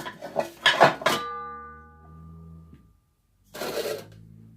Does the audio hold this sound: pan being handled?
yes